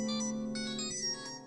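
A mobile phone ringtone from an incoming call plays loud and steady as a sustained electronic melody, with no talking over it.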